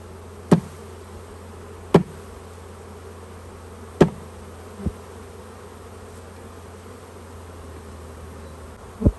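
Honeybees fanning at the entrance of a large swarm's hive, heard as a faint, steady insect hum in the background, broken by several sharp knocks.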